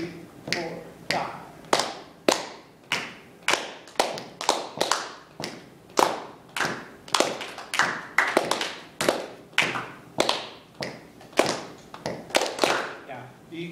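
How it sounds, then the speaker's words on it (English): Students in a music theory class clap a rhythm together: roughly two dozen sharp group claps in an uneven, patterned meter, close and fairly loud, with talk faintly underneath. "you're starting to clap like this when you're not sure"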